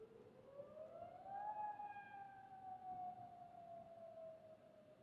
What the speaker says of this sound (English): a tornado warning siren going off.